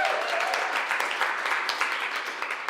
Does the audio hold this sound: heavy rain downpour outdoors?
no